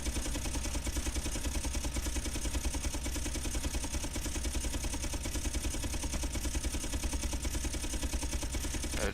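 Rapid gunfire rattles continuously in a video game torpedo demo, a dense unbroken stream of shots layered over a steady mechanical engine drone, loud and close throughout.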